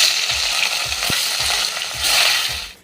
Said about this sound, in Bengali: এবার আমি এই মাছগুলো ভেজে নেব